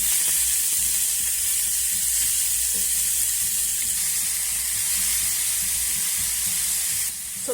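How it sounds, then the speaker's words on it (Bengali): Chopped vegetables with salt frying in a pan for a healthy tiffin, a steady, close sizzling hiss that runs unbroken and drops away briefly near the end. "সবজিগুলো দেওয়ার পর এর মধ্যে দিয়ে দিচ্ছি পরিমাণ মতো নুন এখন আমি সব কিছু ভালো করে ভেজে নেবো"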